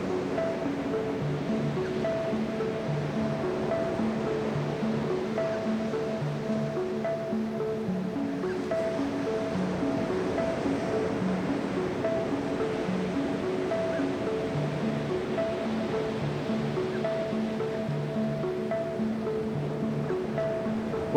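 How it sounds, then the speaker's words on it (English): Ocean waves wash steadily onto the beach at North Stradbroke Island, a continuous rushing surf with a low hum underneath, even and unbroken for the whole stretch with no voices. "I just stayed back and enjoyed the beach, listening to the waves and enjoying the sunrise."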